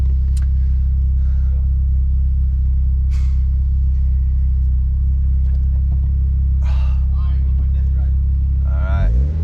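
Mitsubishi Evo X engine idling with a deep, steady rumble, throttle rising briefly near the end as the car pulls out of a driveway, with short bursts of people speaking over it.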